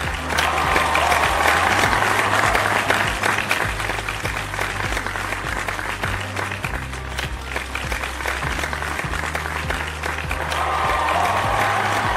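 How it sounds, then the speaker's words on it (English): Sustained applause for graduating students at a Christian academy ceremony, a dense wash of many hands clapping steadily throughout with low background music underneath. "Another round of applause for our students."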